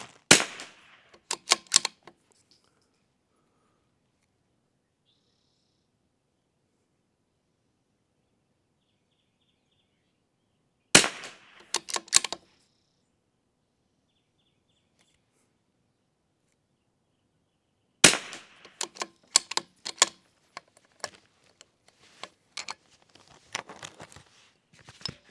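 A Vudoo Three-60 rifle firing Lapua Long Range ammunition outdoors at a range: three spaced clusters of sharp cracks with echoing tails, separated by long quiet gaps.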